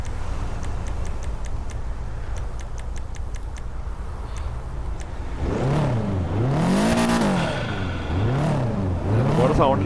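Subaru Impreza WRX STI engine in GTA 5, first a quiet idle with a ticking sound, then loud revving that rises and falls in repeated sweeps as the gears change.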